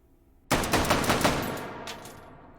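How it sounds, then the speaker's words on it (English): A Model 8 carbine fitted with a muzzle brake fires a rapid burst of about six loud shots in a virtual-reality shooting game, followed by a ringing tail that fades. "Let's try it with the muzzle brake on there."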